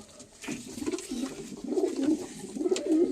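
Pigeons coo close by in soft, repeated low throaty rolls that grow slightly louder over a few seconds, with no talking.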